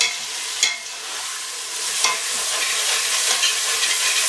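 Minced beef fries in a masala base with a loud, continuous close sizzle and a couple of brief stirring scrapes early on.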